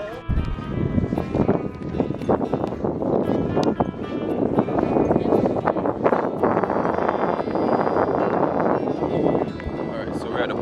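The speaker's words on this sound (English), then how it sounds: "If you're hearing a lot of wind, it's because, again, I can't bring any mic on the camera because of where we are." Strong wind buffets an unshielded camera microphone outdoors at the Chichen Itza ruins in Mexico, a loud continuous rumbling roar throughout with people talking over it.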